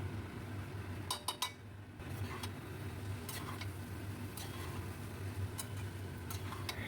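Spoon clinks and scrapes against a pot while chicken corn rice with ghee is stirred, giving faint, irregular metallic ticks spread over a steady low hum, with a quick cluster of taps early on.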